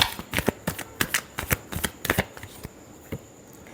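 Tarot cards riffled and shuffled by hand in quick uneven bursts, close and crisp, with the flutters thinning out toward the end.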